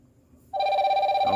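A TK25 smartwatch rings for an incoming Bluetooth phone call, a sudden, loud, steady electronic ringtone starting about half a second in after near silence.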